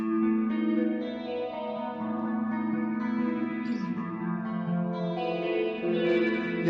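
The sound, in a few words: guitar modulation effect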